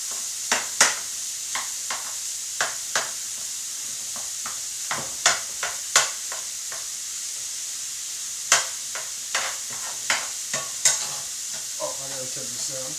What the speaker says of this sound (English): We're going to break this meat up and stir it in.